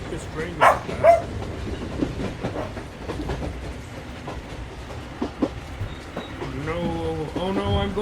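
A train running fast with rumbling rail noise and clickety-clack, mixed with a dog barking and brief voices or cries over the top.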